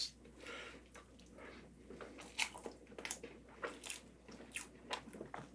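Close, wet chewing and biting of strawberry crepe cake, with soft squishy mouth sounds and small crunches repeating irregularly over the whole stretch, no talk.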